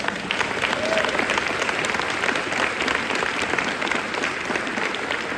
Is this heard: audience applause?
yes